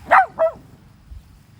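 A dog on a leash-walking exercise gives two quick, sharp barks close by, then falls quiet over a low background rumble.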